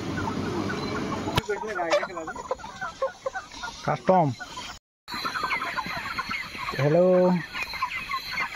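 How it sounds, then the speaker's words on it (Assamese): Broiler chickens cluck and squawk in repeated bursts at a poultry farm on loading day, close and fairly loud, with a person briefly speaking among the birds. "আমাৰ সম্পূৰ্ণ 30 কুইণ্টেল আজি লিফটিং হ'ল মুৰ্গী"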